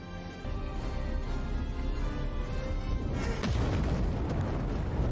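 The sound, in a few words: explosion of a lab in a film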